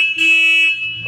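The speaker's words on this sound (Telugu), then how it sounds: "హారన్ కూడా బాగుంది." A horn on a 2025 Royal Enfield Bullet 350 motorcycle in Military Red sounds one steady, bright, loud blast of about half a second, with no talk over it.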